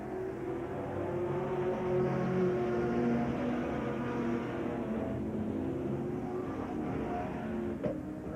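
Late model race cars accelerating off a green flag start at Brighton Speedway in 1992, a dense rising engine roar that swells and holds steady, heard from a distance with no voices.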